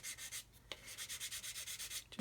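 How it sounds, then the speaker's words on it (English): Fine 400 grit sandpaper rubs a plastic model kit joint on a 1/72 Airfix Vulcan in quick, even back-and-forth strokes, soft and close with a gentle scratchy rhythm. "sanding away"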